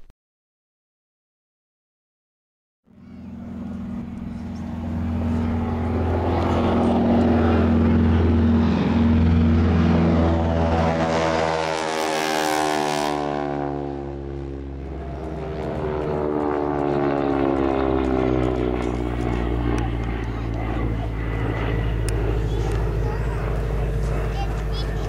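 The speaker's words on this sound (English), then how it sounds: "and of course the mighty Spitfire" Vintage propeller aircraft, including a Spitfire, roar past at an air show in Temora, a loud sustained engine drone that swells and shifts pitch as they fly by, continuing steadily throughout.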